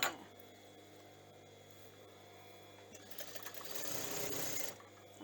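Sewing machine stitching shirring elastic along a seam of a top, a steady close motor hum that turns louder and busier with rapid needle clatter near the end, no talk.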